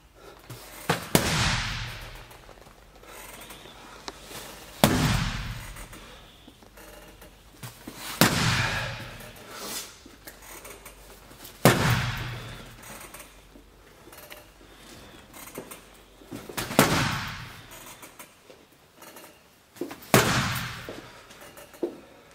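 Punches land on a kickboxing strength-measuring machine as sharp, loud bangs, six in all at roughly three-to-four-second intervals, each with a brief ringing decay in a reverberant room.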